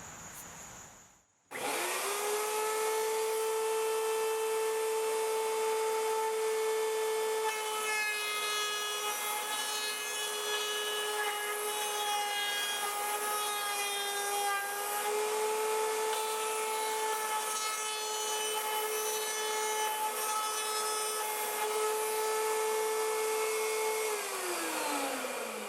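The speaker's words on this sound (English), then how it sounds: "We're doing that with a 1/2 inch round over bit, and we'll take it off on 3 sides." Router fitted with a half-inch round-over bit rounds the edges of a wooden box, spinning up abruptly to a loud, steady high whine that holds close for over twenty seconds before winding down.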